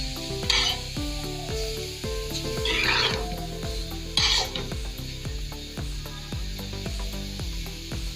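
Radish paratha filling stirred and mixed in a bowl, with rubbing and scraping bursts over a steady background of regular rhythmic tones, recorded close and fairly quiet.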